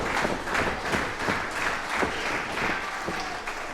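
A live pro wrestling crowd applauds and cheers steadily, a dense wash of clapping with rhythmic surges, with no voices rising above it.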